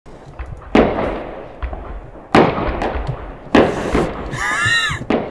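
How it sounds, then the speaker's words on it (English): A firework shooter in the game Human Fall Flat firing repeated loud bangs, with crackling bursts and a whistling rise between blasts, close and forceful with little talk. "Oh, it's a firework shooter."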